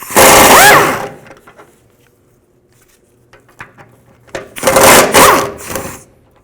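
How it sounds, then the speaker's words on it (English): Rapid ratcheting bursts from a 15mm socket wrench loosening transmission mount nuts on a 2000-06 Chevy Tahoe, two loud spells of dense clicking separated by a quiet pause with scattered light knocks. "Just use a 15mm socket, take those nuts off."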